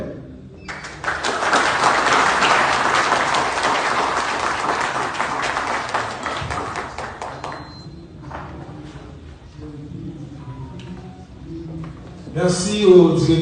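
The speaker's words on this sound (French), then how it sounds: "Je vous demande d'applaudir encore plus fort." Audience applause following a speech at the opening of a 2024 summer university event, a dense wash of clapping for about seven seconds that gradually thins into scattered claps and room noise, with a brief louder burst near the end.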